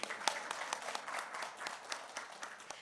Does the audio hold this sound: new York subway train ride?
no